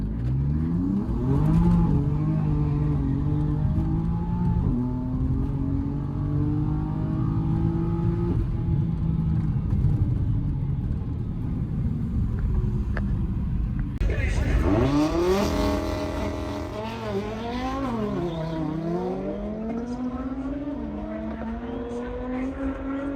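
A BMW M4 drag racing a TCR car at a raceway: a loud engine revving and pulling through gears, tones climbing and dropping, then a sharper burst of acceleration with rising and falling pitch.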